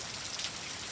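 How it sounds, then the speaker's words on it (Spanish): Steady rain falls after a long dry spell, a dense, even hiss of drops spread evenly across a brief moment with no voices. "está cayendo una bendición, está la lluvia y la esperábamos hace tiempo"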